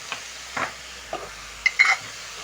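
Minced beef browning in a pan, with soft sizzling and a few short stirring scrapes in separate bursts, fairly quiet with no talking.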